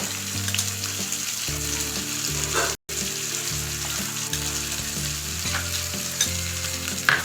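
Ginger garlic paste and curry leaves fry in oil for egg biryani, a steady sizzle under repeated scraping of a ladle stirring the pan, with a brief cut of silence midway and no speech.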